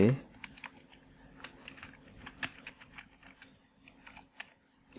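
English text is typed on a computer keyboard in Microsoft Word, heard as a close run of irregular key clicks and taps over a few seconds.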